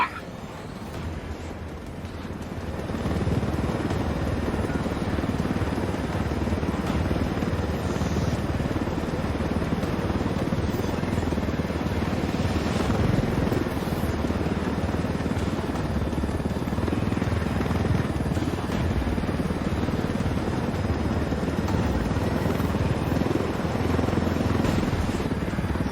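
A Ghost Recon Wildlands helicopter drones steadily in flight, a loud continuous rotor and engine roar that swells after a quieter start and holds for the whole stretch.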